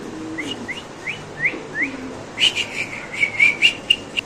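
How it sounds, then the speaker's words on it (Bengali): Short rising whistled calls repeat steadily, then quicker chirpy notes follow, with low cooing in the background; pigeons calling close by. "এখানে আছে আরেক জোড়া পটার কবুতর"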